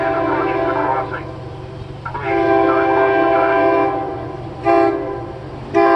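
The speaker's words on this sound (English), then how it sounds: "Warning, a train is approaching the crossing" A SEPTA passenger train rumbles past a level crossing on Lower State Road, with a steady low drone and horn-like tones that surge and fade, ending with two short louder blasts.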